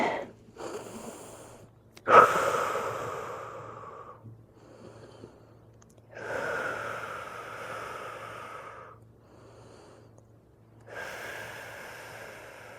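Audible breaths during a beginner full-body yoga stretch, with a sharp inhale followed by longer breathy exhales and another breath later, close and fairly clear with no talking.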